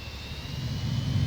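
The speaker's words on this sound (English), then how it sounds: "Whoa, sounds like an airport." Aircraft engines at a busy airport in the Transport Fever 2 video game give a steady, continuous jet roar with a faint high whine, moderately loud and unbroken, with no voices.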